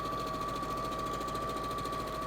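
Steady, fast mechanical chatter of a sewing machine stitching quilt blocks, running evenly and continuously at close range.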